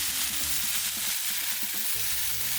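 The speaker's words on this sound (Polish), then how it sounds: "A lubię ten dźwięk. Jak grill skwierczy," Bone marrow and buns sizzle on a hot grill, a steady bright crackling hiss with faint low clatter underneath, continuous and close with no voices.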